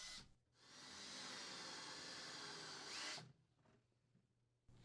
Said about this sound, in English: Drill a pilot hole through each of the feet into the cabinet floor.